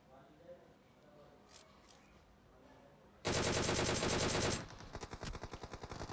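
Automatic gunfire in the mobile battle royale Battlegrounds Mobile India during a custom practice scrim, a dense loud burst erupting midway and then breaking into rapid rhythmic shots, after quieter game ambience with commentary.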